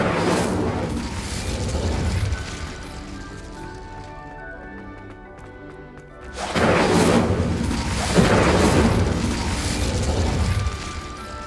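An Incendio fire spell cast in Hogwarts Legacy, booming whooshes of flame that surge, fade and then flare up again over a dense rumbling game soundscape, loud and near.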